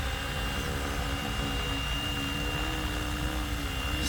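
A 3D-printed Flywing MD500 RC helicopter hovering nearby, its rotor and motor giving a loud, constant buzzing whine with steady tonal hum throughout and no voices.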